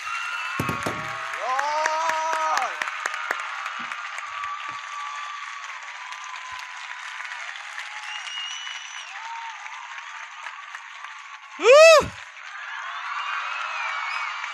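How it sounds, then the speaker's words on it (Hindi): Church congregation applauding for Jesus Christ, steady clapping and crowd noise throughout, with a sharp whooping cry rising near the end. "क्या ये हो सकता है जैसे हमने आज तक ताली नहीं बजाई है, आज वैसी ताली हम यीशु मसीह के लिए बजाएं?"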